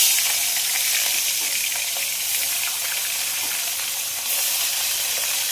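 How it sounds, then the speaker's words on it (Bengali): Turmeric-and-salt-rubbed katla fish pieces fry in very hot oil in a home kitchen, a loud, steady sizzle and crackle that holds through without any talk. "তেল কিন্তু একদম গরম হয়ে গেছে, এবার মাছ ভাজার জন্য ছেড়ে দিচ্ছি"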